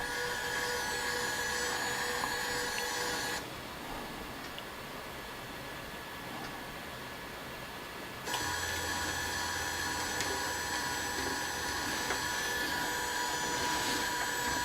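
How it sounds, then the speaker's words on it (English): An EasyThreed Nano 3D printer prints with a steady mechanical whir and fan hiss that eases into a quieter stretch midway, then returns to full level, with no talking. "Now continues to heat up, and it should start the print."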